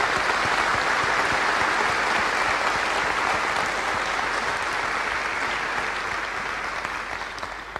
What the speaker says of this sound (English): So quick applause for